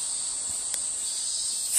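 A cicada gives a steady, high-pitched, buzzing drone that holds unbroken throughout and swells slightly louder at the end, fairly close, with no voices.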